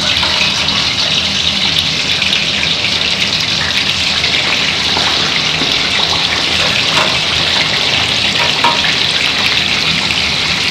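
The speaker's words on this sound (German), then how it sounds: "lege ich gerne die Fleischseite, also mit der Panade nach unten, lasse die knusprig genug werden." Breaded crispy duck frying skin-side down in hot oil in a pan, a loud, steady, dense crackling sizzle that holds unbroken throughout with no talking.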